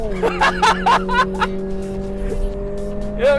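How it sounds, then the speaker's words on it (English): A Subaru BRZ with an automatic transmission holds a steady, sustained engine drone at a constant pitch while a person talks over it in short bursts. "you go down a gear and the engine's screaming, and you put your foot down"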